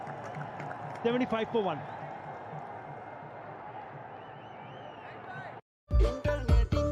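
Fans and teammates applaud at a Bangladesh Premier League cricket match between Rajshahi Royals and Rangpur Rangers, a steady stadium wash of clapping and crowd noise running beneath a commentator's voice before cutting off abruptly.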